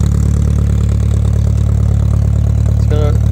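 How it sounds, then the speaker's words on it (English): A 1958 MG A sports convertible, a matching-numbers car, idles close by with a steady, even low engine rumble that holds throughout, with a brief higher chirp near the end. "strong engine."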